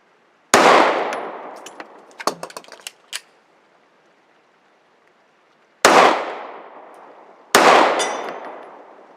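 Sharp gunshots from a subcompact pistol fired at a 10-inch steel target about 65 yards away: a loud crack with a long fading tail, then a few faint metallic rings, then two more spaced shots, outdoors with no talk.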